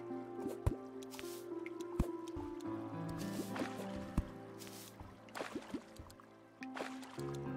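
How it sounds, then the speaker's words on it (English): Water in the Terraria Calamity Mod game, with repeated short drips and squishy splashes over a background of game music, sounds popping out at irregular intervals. "Oh, the water physics are so weird."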